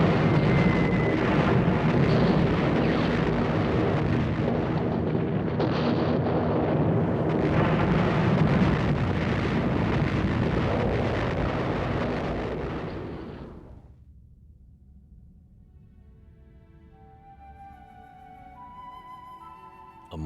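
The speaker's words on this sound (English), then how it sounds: "The Allied forces planned to break through by destroying the monastery with aerial bombings." A long, heavy rumbling roar of explosions from the aerial bombing of a monastery, dense and sustained for several seconds before cutting off abruptly into quiet with faint lingering tones.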